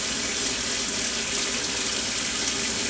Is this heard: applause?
no